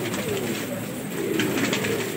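Several pigeons coo in a steady, continuous low murmur at close range, with breeds such as Indian red sharabi and VIV pigeons kept in a pigeon loft. No one speaks over the cooing.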